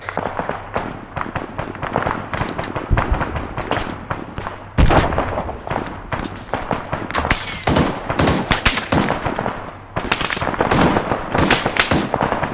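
Intense ArmA 3 battle gunfire: sharp, loud shots and rapid bursts crack one after another with heavy, dense impacts over roughly twelve seconds, some close and some farther off, with no voices.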